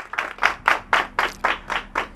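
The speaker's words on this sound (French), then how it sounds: "Merci d'applaudir pour vous-même," A TV studio audience claps in unison, eight evenly spaced, rhythmic beats of close, crisp clapping in about two seconds, with no voices over it.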